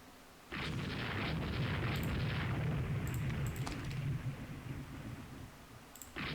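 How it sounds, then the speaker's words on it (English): A torpedo strike explodes in the naval strategy game Rule the Waves 2, a sudden loud boom that then rumbles on as a dense, sustained roar for several seconds before easing off, with sharp crackles breaking through near the end. "oh, hit the Fruins with the torpedo."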